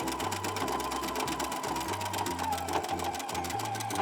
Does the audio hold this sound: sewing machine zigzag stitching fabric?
yes